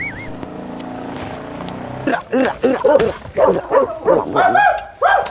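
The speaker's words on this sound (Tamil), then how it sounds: "அது நாய் இருக்குது ஐயா" A dog barks and whimpers in a quick series of yelps close by, with some background noise and a brief tonal sound at the start.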